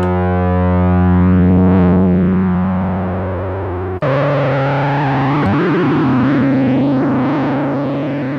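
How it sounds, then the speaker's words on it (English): A loud electronic drone from a Minimoog synthesizer, noise generator fed into the oscillators, with sweeping harmonic tones that abruptly turns harsher and grittier halfway through, sustained with no speech. "So now I'm going to turn this over to noise."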